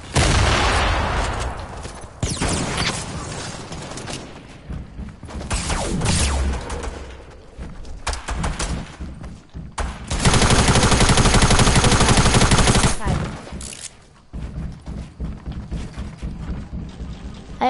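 Shotgun and other gunfire in a video game, loud bursts of rapid shots separated by brief pauses, with a long sustained barrage in the middle and choppier firing toward the end.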